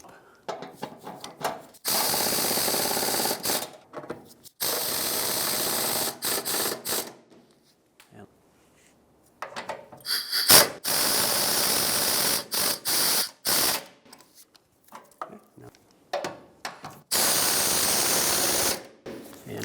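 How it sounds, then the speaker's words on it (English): A ratchet clicks in rapid bursts while the rear bumper bracket bolts on a 1996-2002 Toyota 4Runner are tightened, the fast ratcheting runs coming close and loud, separated by short pauses and light clunks. "So now I can tighten them all down."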